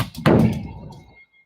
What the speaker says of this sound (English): Knock the ball into the board.